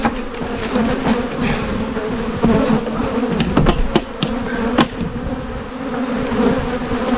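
Honeybees buzz densely around an open beehive with its honey and super frames removed, a continuous close swarm drone with a few sharp knocks and clicks scattered through the middle.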